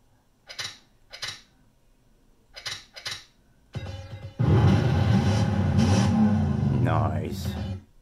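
ATV engines in a Wii racing game, Baja 1000, starting with a few short clicks, then a loud, steady engine roar that rises and holds for about four seconds before easing off at the end.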